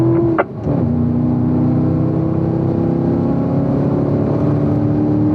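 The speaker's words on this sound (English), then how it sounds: "Let's open it up on the back straightaway, guys. Let's get up to 4th gear." A Corvette accelerates hard along the back straightaway of a race track, its engine a loud, steady drone heard from inside the car after a brief dip at the start.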